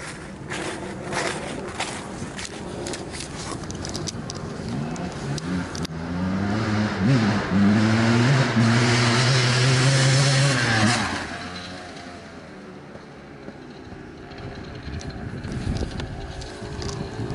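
A 1997 KTM 360SX dirt bike engine runs throughout, swelling into a louder, sustained rev in the middle before easing back to a steadier idle, with no talk.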